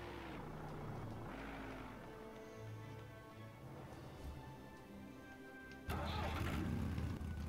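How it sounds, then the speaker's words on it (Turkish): A tractor engine in Serious Sam 4 cranks and roars to life near the end, a sudden loud surge rising over the steady, humming game sounds before it. "Tamam ben traktörle gidiyorum"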